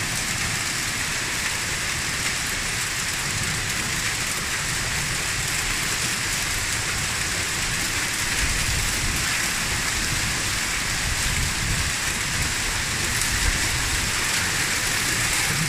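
Hail falls steadily in Naousa, a dense, loud, unbroken patter and hiss on surfaces that lasts throughout, with no voices.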